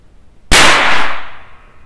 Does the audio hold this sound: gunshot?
yes